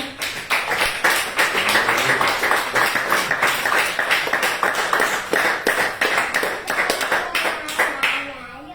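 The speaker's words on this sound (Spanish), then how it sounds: "Denle esa ofrenda de aplausos al Señor." Congregation applauding during a church sermon, a steady rhythmic round of many hands clapping in a reverberant hall that continues evenly throughout and fades slightly at the very end.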